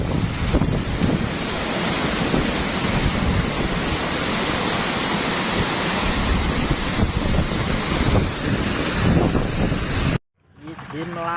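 Flood water from a breached river dike at Ngemplek Wetan village in Demak roars as a continuous, loud wash of waves and gusting wind buffeting the microphone, cutting off abruptly near the end.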